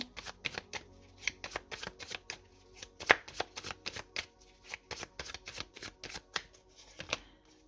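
Tarot cards shuffled and drawn close up, a run of sharp, regular card flicks and riffles with short gaps between bursts, crisp and alone without any voice.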